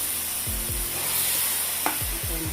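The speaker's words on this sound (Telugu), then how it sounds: "టమోటా ప్యూరీ అంతా ఈ విధంగా కలిసేలాగా ఫ్రై చేసుకున్నామండి." Tomato puree and masala for rajma curry frying in a pan, a steady close sizzle broken by several scraping stirs, with no talk.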